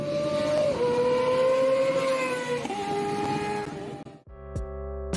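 A high-revving Kawasaki ZX25RR 250cc inline four-cylinder motorcycle engine screams loudly and steadily, pitch shifting with gear changes, then cuts off abruptly into a brief different sound.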